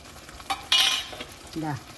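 A spoon scrapes and stirs a simmering pot of garlic curry with pepper powder, with a brief sizzling burst and light clinks of metal, close by.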